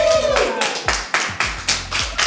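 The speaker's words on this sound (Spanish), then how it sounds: "¡Un aplauso, por favor!" Scattered clapping from an awards-show audience at a Spanish-language ceremony, a handful of separate claps and bursts in an uneven rhythm rather than a full ovation, fairly close, with a trace of voice near the start.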